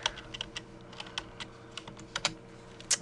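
Keys on a computer keyboard tap quietly at close range, an irregular run of light clicks with a few firmer strokes, no voice over them.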